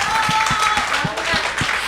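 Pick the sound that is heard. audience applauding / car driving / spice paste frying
audience applauding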